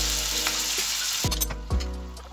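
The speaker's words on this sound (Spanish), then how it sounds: "a fuego lento vamos dejando que este bacalao se vaya friendo" Pieces of cod frying over low heat in hot oil in a pan, a steady close sizzle with a couple of brief clatters from stirring or turning, no voices.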